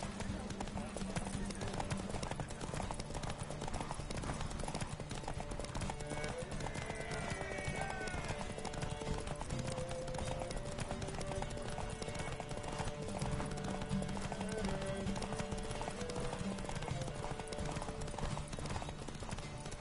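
Geralt's horse Roach gallops in The Witcher 3 with rapid, steady clip-clop hoofbeats running throughout, set under game music and a voice speaking.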